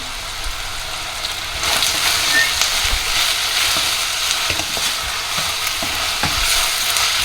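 Chopped onions with curry leaves sizzle and fry in a pot for a one-pot chicken curry, a steady close hiss that grows louder partway through, with occasional scraping stirs and no talking.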